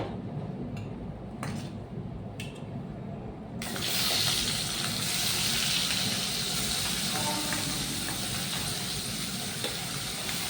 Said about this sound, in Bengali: চিংড়ি মাছটা ভালোভাবে ভেজে নিতে হবে